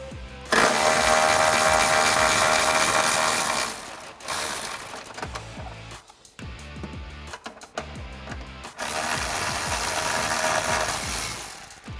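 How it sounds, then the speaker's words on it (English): A 13mm socket on a ratchet works rear exhaust hangers loose on a 2015-2017 Mustang GT, with loud fast clicking runs broken by short pauses and quieter bursts, close by, with no talk. "Now we can go ahead and remove our rear hangers using our 13mm socket."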